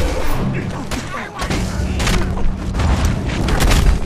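Fury Execution attack in the Mad Max video game: a dense, loud barrage of heavy thuds, booms and metallic impacts in rapid succession over storm-like background rumble, with a voice talking in spots.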